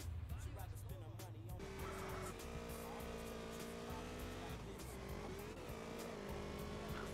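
Motorcycle engine in GTA San Andreas Definitive Edition droning steadily with shifting revs and a brief tire screech, loud and continuous under game sounds.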